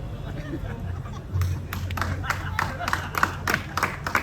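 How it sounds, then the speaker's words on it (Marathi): An audience in a banquet hall claps in scattered, irregular bursts during a stage performance, with crowd murmur and a steady low hum underneath. "काय टाळी वाजवतो"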